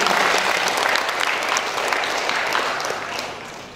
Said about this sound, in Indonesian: Perlu kita berikan tepuk tangan untuk Sri Bunga Tanjung.